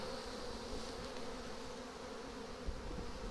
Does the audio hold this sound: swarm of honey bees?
yes